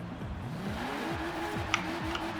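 A BMW M4 engine drones and rises in pitch through repeated gear shifts as it accelerates in Forza Horizon 4, steady and close with no talking.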